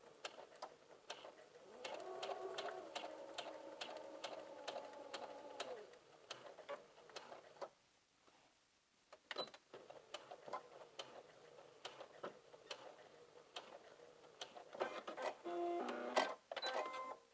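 Nearby, a sewing machine stitches a maxi skirt seam up to a marked dot in several runs of fast, even needle clatter, with a short silent pause partway before it starts again.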